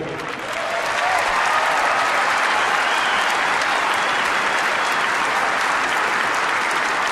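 Broad, sustained applause from a tennis crowd at Indian Wells after the 2002 final between Hewitt and Henman, swelling within the first second and holding steady and loud throughout.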